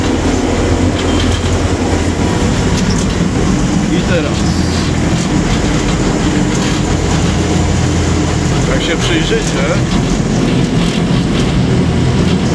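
A Geda PH650 construction hoist travels downward with a loud, steady mechanical rumble and rattle throughout, while a person talks over it.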